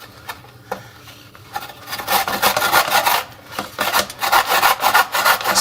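Peeled coconut flesh for Surinamese kronto koekoe is rubbed against a small hand grater, producing steady rasping scrapes that grow louder and faster after a quieter start, close up with no talking.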